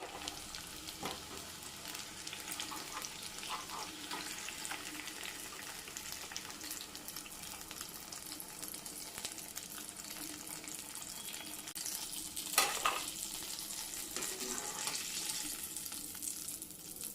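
Sukhiyan deep-frying in a pan of hot oil, a faint, steady crackling sizzle that runs throughout, with one brief louder clatter partway through.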